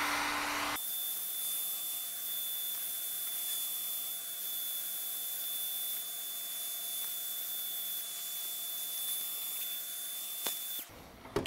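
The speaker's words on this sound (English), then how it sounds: "So next thing I'll do now is just sort of heat the cover up a bit" A hot-air blower warms the gearbox cover of a BMW Airhead motorcycle during reconditioning. It gives a close, loud, steady whooshing hiss with a faint whine, starting and stopping abruptly.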